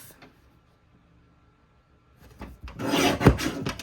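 A paper trimmer cuts paper in a single short scraping slide lasting about a second, close and fairly loud after a quiet lead-in, with no talking.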